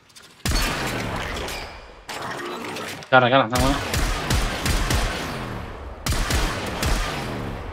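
A weapon fires in the video game Warframe, loud rapid bursts of shots in several separate volleys with short gaps between them, and someone speaks briefly over the gunfire.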